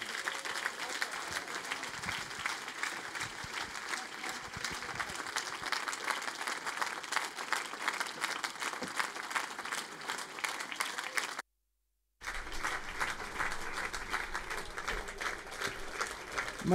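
A crowd on a town market square in Bonn applauds a politician at an election rally, sustained dense clapping heard from the middle of the crowd that continues after a brief cut.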